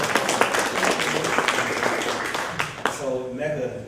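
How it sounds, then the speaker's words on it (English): A small live-recording audience at a leadership panel claps through the moment, uneven and fairly close, with a voice speaking over the end. "Can we get a round of applause for that?"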